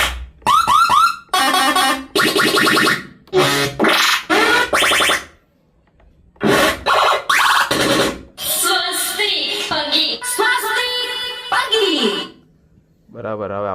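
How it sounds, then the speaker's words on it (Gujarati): Loud electronic musical vehicle horn tunes play in a series of bursts, with warbling melodic blasts separated by short gaps and a quiet pause midway. "હજી એકવાર હોર્ન તમને સંભળાવી દઉં"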